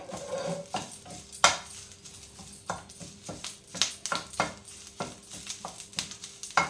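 Curry leaves being stir-fried in a pan for a chutney, with repeated scraping and clinking of a spatula against the pan over a low, continuous sizzle.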